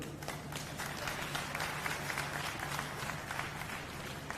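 A crowd claps at a Haryana political rally in Jhajjar, with a steady, moderately distant wash of applause lasting a few seconds beneath a low hum.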